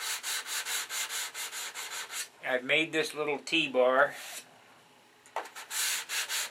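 A P47 Thunderbolt model is hand-sanded with 320 grit sandpaper in quick, rhythmic back-and-forth rubbing strokes, up close, and someone talks partway through.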